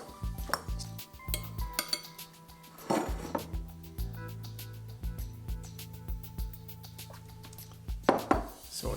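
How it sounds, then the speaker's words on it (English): Cooked skin-on potatoes broken up with a fork for Indian aloo masala, giving repeated clinks and scrapes of metal on a bowl in irregular bursts, close and fairly clear with no talking. "we'll take the potatoes and we'll break them up with a fork"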